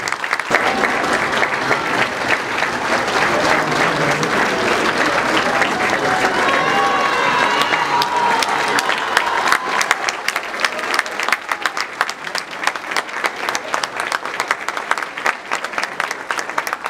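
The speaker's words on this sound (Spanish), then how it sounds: "y sus hijos Vicente, Joaquín y Romero, a quienes recibimos con este gran aplauso." Sustained crowd applause at a municipal council installation ceremony, loud and steady clapping filling the room before thinning toward scattered claps at the end.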